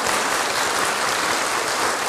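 Audience applause welcoming a museum curator at a formal event, dense steady clapping from a large crowd, loud and even throughout with no voices.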